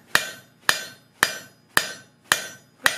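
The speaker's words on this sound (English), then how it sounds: "So that's all I'm hammering these facets to." Hammer blows ring out on metal facets while forging a sculpture base, six sharp, evenly spaced metallic strikes about half a second apart, each with a short ringing decay, close and clear with no talking.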